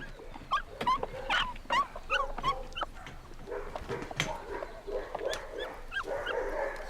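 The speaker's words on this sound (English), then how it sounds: "Gabin discovers these puppies, barely a month old." Abandoned puppies barely a month old whimper and yip, left at a gate overnight, with a series of close, high, wavering cries in short bursts, some overlapping, continuing without a pause.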